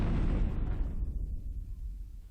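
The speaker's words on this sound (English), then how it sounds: "A sudden explosion." A sudden explosion in the Piofiore: Fated Memories visual novel opens with a loud, deep booming burst that rumbles and slowly fades over about two seconds, with no talking over it.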